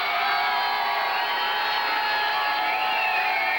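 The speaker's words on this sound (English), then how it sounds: "The hometown crowd at Far West Rodeo roars their approval for the TWA stars about to go on" A hometown crowd at a Far West Rodeo wrestling event roars and cheers for the TWA wrestlers. A dense, loud wall of whoops and shouting runs steadily through the whole stretch.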